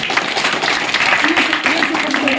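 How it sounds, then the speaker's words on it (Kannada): An audience applauding students at a school felicitation event, a dense continuous clapping from a crowd with a voice underneath. "ಅವರಿಗೆ ದೊಡ್ಡ ಚಪ್ಪಾಳೆ ಮುಖಾಂತರ ಅಭಿನಂದನೆಗಳು."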